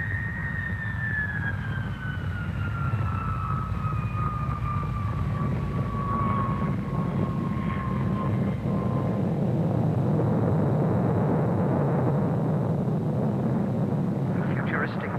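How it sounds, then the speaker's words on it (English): An Avro Vulcan delta-wing bomber flying an aerobatic display at Farnborough gives a steady, heavy jet roar with a high whine that slowly falls in pitch as the aircraft passes, loud and sustained throughout. "At Farnborough, this aircraft too gets into the aerobatic act."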